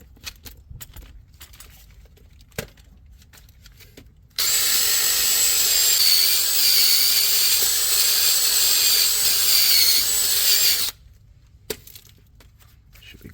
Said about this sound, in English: I'm just gonna wire wheel this.